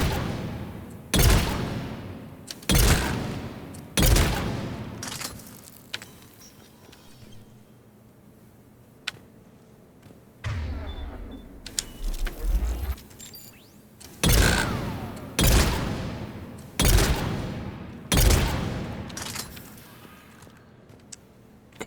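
Precision shotgun blasts from Mass Effect 3 fire one at a time in a spaced rhythm, each loud report decaying over about a second, with quieter mechanical sounds between shots.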